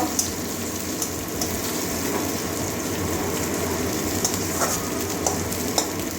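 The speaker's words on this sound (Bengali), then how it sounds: "এবারে পেঁয়াজ কুচি দিয়ে দিচ্ছি পেঁয়াজ কাঁচা লঙ্কা ওটা একটু ভেজে নেবো কাঁচা গন্ধ যাওয়া পর্যন্ত" Chopped onion and green chillies fry in hot oil with a steady, close sizzle, punctuated by light clicks and scrapes of stirring.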